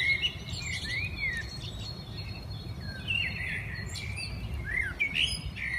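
Several small birds singing in a town park in the morning, with thin whistled chirps and short rising phrases at moderate distance over a steady low rumble of background noise.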